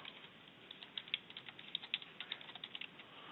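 Typing on a computer keyboard while drafting a CAD project, a run of light, fairly quiet key clicks in an irregular patter against faint background hiss, with no talking.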